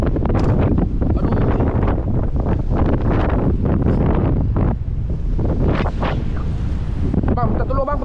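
Strong wind buffets the microphone at sea beneath a bridge during a fishing trip, a loud, constant roar with gusts over a steady rush that stays heavy throughout.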